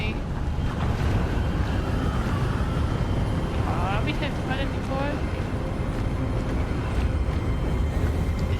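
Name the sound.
wind blowing in Hogwarts Legacy video game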